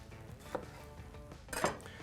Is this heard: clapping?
no